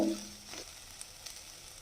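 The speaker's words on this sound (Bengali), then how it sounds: "সবজিগুলো ভাজা ভাজা হয়ে গেছে" Vegetables frying in a pan, a faint, soft sizzle with a light stir at the start, steady and close.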